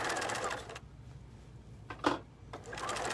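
Bernina sewing machine stitching at a moderate speed, a near whirring run that stops for about a second, gives a couple of brief clicks, then starts again.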